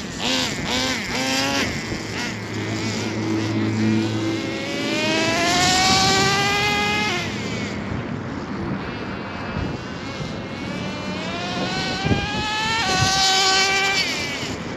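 A stock-engine HPI RS4 nitro RC car runs, its small motor whining high and buzzy as it revs up and down in repeated rising sweeps, loud and close throughout.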